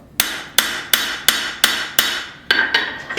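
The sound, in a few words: hammering and smoothing a forged integral bolster knife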